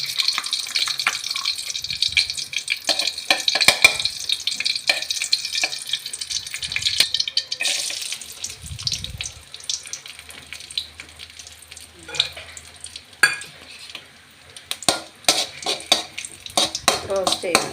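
Ghee heats and sizzles in a pan, ready for roasting raisins and cashews, with a steady frying hiss and occasional clinks of utensils against the pan.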